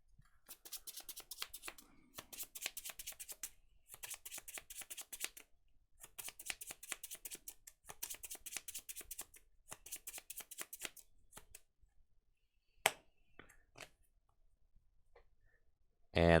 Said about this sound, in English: I'll shuffle these 5 energy back into the deck.